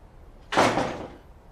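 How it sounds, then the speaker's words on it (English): A door swings shut in one short, close thud with a brief rush of air and a quick decay, then quiet room tone. "bro, close the door."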